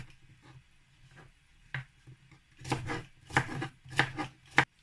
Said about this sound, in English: I'm just going to dice it small like this